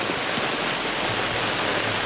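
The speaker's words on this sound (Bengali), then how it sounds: "বৃষ্টির টিপটাপ শব্দ মনকে একদম চাঙ্গা করে তোলে" Rain falls steadily over a muddy village road, a dense, even hiss of pattering drops close by with no voices.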